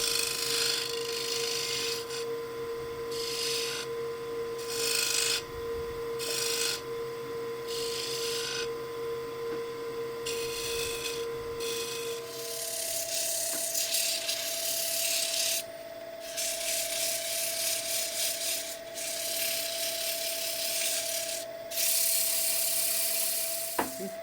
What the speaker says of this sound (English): now with the small spindle gouge, just round this